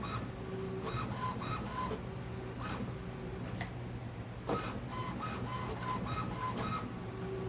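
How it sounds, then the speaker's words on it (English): An HP ENVY 6055 inkjet printer prints an alignment page, its steady mechanical whir and rhythmic clicks of the carriage and paper feed running continuously at moderate level, with no voices. "Started printing the alignment page almost right away."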